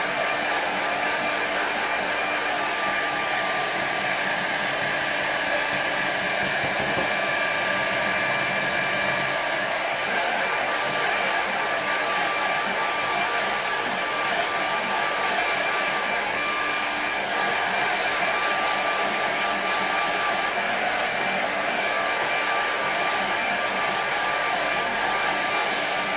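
Hair dryer blowing steadily on wet watercolour paint, a loud continuous whooshing hum running unbroken for the whole stretch with no talk.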